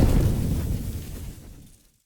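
A deep explosive whoosh of fire, a Skyrim destruction magic fire spell sound effect with an explosion layer, rumbles loudly, then tapers off and cuts to silence after about two seconds.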